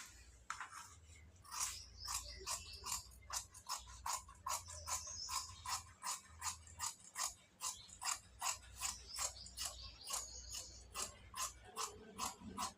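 Scissors snip through fabric while cutting a collar-neck churidar top, a fast steady run of sharp crisp clicks repeating close by with no talking.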